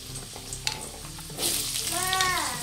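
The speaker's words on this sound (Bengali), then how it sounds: "একটু আমি তেল দিয়ে নিয়েছি, এরপর আমি এর মধ্যে আলুগুলো হালকা ফ্রাই করে নেব।" Potatoes frying lightly in a little oil for a mushroom masala, giving a steady hiss and sizzle with some stirring noise, close and continuous for a couple of seconds.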